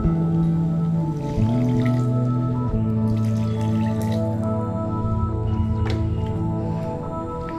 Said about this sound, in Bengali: আমি 1 বাটি চাল নিয়েছি, এখানে আমি 2 বাটি জল নেব।